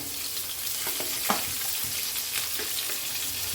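Onion fries in oil alongside halved pointed gourd (potol) in a pan, a continuous close sizzle broken by a few stirring scrapes, with no voices.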